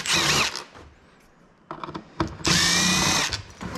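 An impact wrench fitted with a reducer removes the third brake light from a 2022 Ford F-350 King Ranch, running in loud, close bursts with short pauses between them and no talking.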